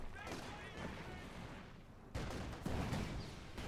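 Tank cannon and battlefield gunfire from Company of Heroes 2, with shots at a T-70, rumble in dense, loud bursts, and a heavier blast lands about two seconds in.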